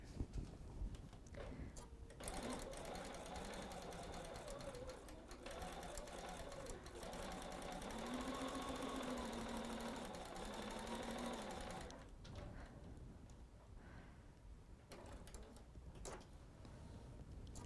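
A sewing machine stitches a quilt block in a long continuous run of rapid, even needle chatter, stopping briefly near the end before starting again, with occasional soft speech around it.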